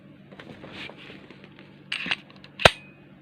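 A pistol slide is pulled back by hand, giving a couple of light metallic clicks followed by one sharp, loud clack near the end, up close against a quiet room.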